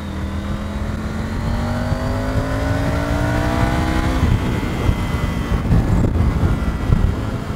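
A car engine in Cyberpunk 2077 accelerates loudly, its pitch climbing steadily before a gear change about halfway through. Rougher engine roar and road noise follow, with no talk.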